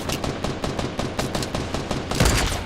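Sniper-rifle fire in Fortnite comes as a quick series of sharp shots at an irregular rhythm, fairly close, with a louder, heavier blast near the end and no speech.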